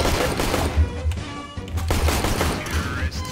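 A Glock pistol fires in the game CS:GO, with repeated sharp shots in quick irregular bursts and clatter from other gunfire, close and loud, while talk runs over parts of it.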